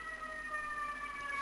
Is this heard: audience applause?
no